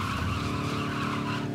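An armored car in Lego Batman 3 revs hard and skids, a steady loud engine roar with tire squeal running unbroken throughout, no voices.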